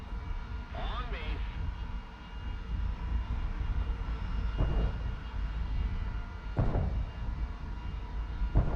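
Propeller or jet drone of a plane in the War Thunder flight game, a steady engine roar running throughout with a few sharp transient bursts on top and a voice speaking over it.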